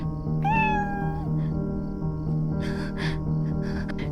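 A cat gives one clear, drawn-out meow near the start over a low steady background hum, followed by a few soft breathy and rustling noises.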